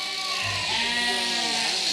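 Several sheep bleat in overlapping, wavering cries at a shearing in Scotland, fairly close, with a low rustling background throughout.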